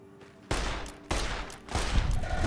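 Three heavy gunshot bursts go off in the Fallout: Tale of Two Wastelands video game, each a sharp loud blast followed by a rolling echoing tail, evenly spaced and close.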